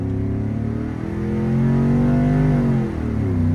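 An E85-tuned Chevrolet Tahoe with tow/haul mode engaged accelerates hard in first gear toward about 3,500 RPM, its deep engine note rising loudly in pitch, dipping briefly at a shift, then climbing again, close and alone.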